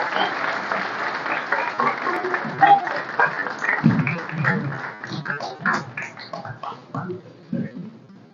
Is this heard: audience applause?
yes